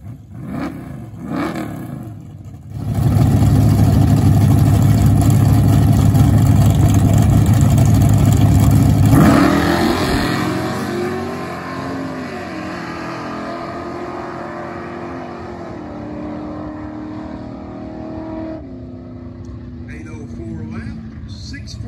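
A Barracuda drag car makes a drag racing pass, its engine roaring loud and steady, then fading into a distant drone as the run continues.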